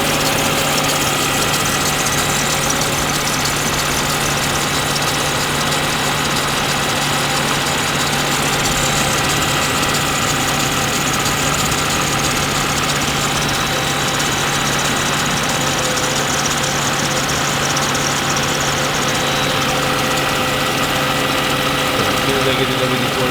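A Mercedes C55 engine idles steadily at close range with a constant mechanical whir and faint chatter from a worn belt tensioner, an unbroken drone throughout.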